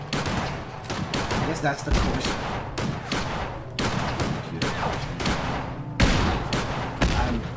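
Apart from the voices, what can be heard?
turrets firing guns in Fallout 4 video game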